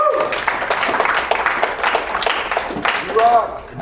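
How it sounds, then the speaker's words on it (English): Audience at an Austin JavaScript meetup applauding as a speaker is introduced, a short dense patter of clapping mixed with voices and chatter. "Intro round of applause for James."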